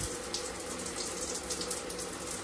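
Hot tap water runs in a steady, close gush as a lotion pump is rinsed under the faucet, with no voices.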